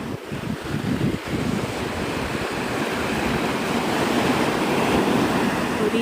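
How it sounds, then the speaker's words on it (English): Large ocean waves break and surge on Pensacola beach at dawn, a steady loud roar of surf with rushing wash and gusts of wind buffeting the microphone, no voices. "Ooh, these waves are huge."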